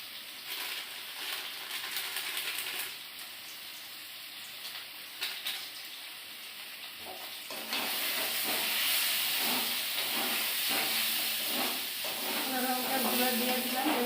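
Dry chili powder and fried spices sizzle in a hot pan, a steady loud hiss that swells midway as stirring adds scraping clatter.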